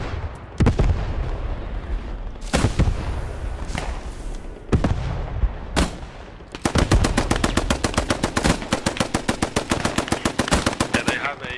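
Gunfire in the World War II shooter Post Scriptum during a large clan battle: several loud single shots and blasts, then a long rapid burst of automatic machine-gun fire close by, with no talking.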